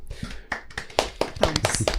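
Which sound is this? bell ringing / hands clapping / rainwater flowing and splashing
hands clapping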